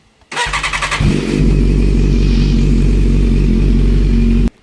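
A BMW S1000RR sportbike engine cranks with a rapid stutter, catches and settles into a loud, steady, close idle that runs evenly until it cuts off.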